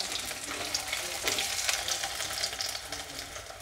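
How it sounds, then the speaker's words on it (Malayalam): Cubes of paneer fry in hot oil, a steady bright sizzle with soft crackles and occasional stirring scrapes, close and continuous with no talking. "വെറുതെ പനീറൊന്ന് ഫ്രൈ ചെയ്തെടുക്കാനാണ്."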